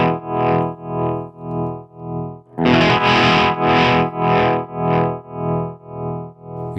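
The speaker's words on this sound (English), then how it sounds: "We've then got the triangle." A distorted electric guitar tone swells and fades in a smooth, regular pulse from a tap tempo tremolo pedal set to a triangle wave, the volume rising and falling evenly about twice per second.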